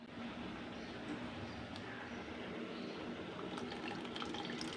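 Soaked tamarind water is poured into simmering Thoothukudi-style sambar in a steady, gentle liquid stream, faint and close.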